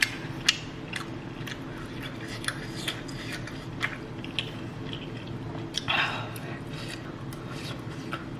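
Someone biting and chewing homemade Korean food such as tteokbokki or gimbap, with repeated close, soft crunches and wet chewing sounds over a low background hum.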